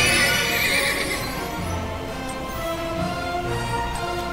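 A grey horse mount in Heroes of the Storm whinnies and neighs clearly at the start, with a steady game music bed and soft clip-clop hooves continuing underneath.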